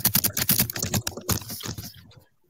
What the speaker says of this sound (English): I'm hearing intense clicking.